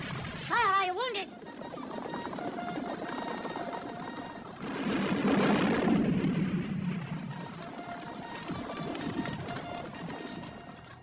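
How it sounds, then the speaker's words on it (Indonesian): Cannon and artillery fire on a Napoleonic-era battlefield, distant booms and a rolling rumble swelling midway, with a shout at the start. "dia memerintahkan pasukan meriam untuk terus menyerang pihak Inggris di atas bukit"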